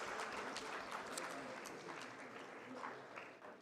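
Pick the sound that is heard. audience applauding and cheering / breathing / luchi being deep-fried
audience applauding and cheering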